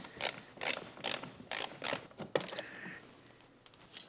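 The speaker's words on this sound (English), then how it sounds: "we're gonna go underneath here, right there, and we're gonna take off that screw" A ratchet loosens a screw under a Porsche 991 911 underbody spoiler, giving a series of crisp close clicking bursts in a steady rhythm, followed by a brief metallic scrape and a few quick final clicks.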